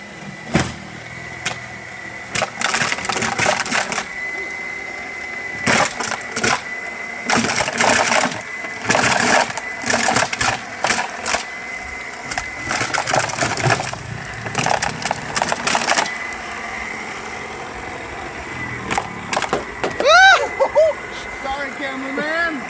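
A snow blower converted to electric power runs in loud, choppy bursts that rise and cut out repeatedly, rattling and whirring close by, with people talking and calling out around it.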